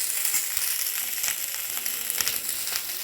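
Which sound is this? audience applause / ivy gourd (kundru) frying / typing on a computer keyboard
ivy gourd (kundru) frying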